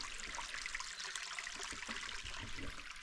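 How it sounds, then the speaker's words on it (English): Creek water flowing past sycamores in the Santa Rita Mountains of Arizona, a steady, faint hiss-like trickle with no breaks, heard alone without talk. "the creek is flowing"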